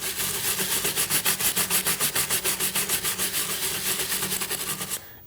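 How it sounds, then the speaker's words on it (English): Palm fiber brush scrubbing fuzz from V-carved cherry wood, a close, fast rhythmic scratching of about five strokes per second that keeps going for roughly five seconds, then stops abruptly. "One thing I like to do when V-carving is to use a brush to clean out some of the fuzzies that the bit doesn't remove"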